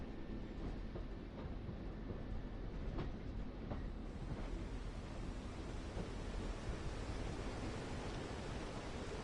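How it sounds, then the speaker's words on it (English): A train rumbles past nearby, a steady broadband roar with faint rhythmic clicks from the rails and no voices. "That sounds like a train."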